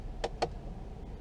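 Two short mechanical clicks in quick succession over a low idling hum inside a Volkswagen Passat with a 2.0 TSI engine, an electric parking brake switching off.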